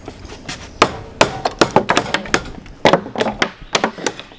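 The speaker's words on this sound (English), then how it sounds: "we're taking that hammer and knocking out all the wood we just notched" Sharp hammer blows knocking notched chunks out of a wooden post, a dozen or so irregular thwacks with brief clattering in between, close and loud.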